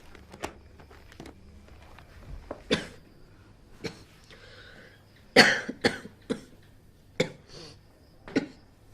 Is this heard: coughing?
yes